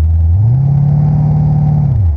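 A Corvette-engined cart roars loudly and close with the brakes held hard, its revs climbing to a high sustained drone before dropping back down, heavy rumble throughout.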